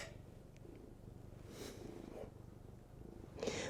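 A white cat purrs close by, a soft rhythmic rumbling that pulses with each breath throughout, faint and with no talk over it.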